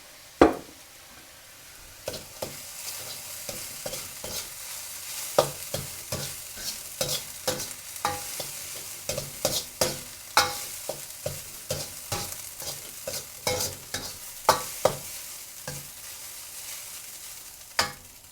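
Fried rice is stir-fried in a wok with a touch of dark soy sauce: sharp, rhythmic scraping strokes of the spatula over a soft, constant sizzle, close and clear with no talking.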